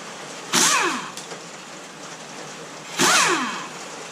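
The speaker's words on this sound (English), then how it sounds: "I always use an impact wrench to get this bolt out of the bottom" An impact wrench works a bolt out of the bottom of a motorcycle fork on a 1978 Honda Goldwing. Two short, loud rattling bursts come about two and a half seconds apart, each winding up and then down, with no one speaking.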